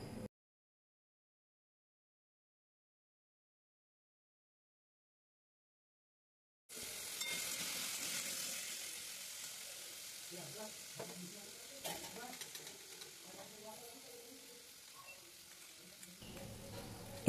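After a long stretch of silence, salted mixed vegetables fry in a pan with a moderate, steady sizzle, broken by occasional stirring scrapes and clatters.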